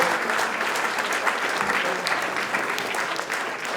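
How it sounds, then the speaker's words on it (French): Audience at an oyster-opening contest prize ceremony in Charente-Maritime applauds the winners with continuous, dense clapping, fairly loud and even, sustained through the whole stretch. "vous pouvez encore tous les applaudir"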